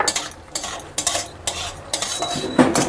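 Cashews and raisins go into hot ghee in a pan, with a spoon clinking and scraping against the metal while stirring, and a soft sizzle underneath; no voices.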